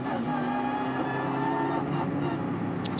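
The blue and white Schmickler Performance GT4 race car rolls into the pits during a Nürburgring 24h qualifier, a steady engine drone with a tonal whine at moderate volume, a short sharp squeal near the end.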